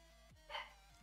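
A pet dog barks once at home, a single short, muffled yelp sounding somewhat distant over a quiet steady room hum.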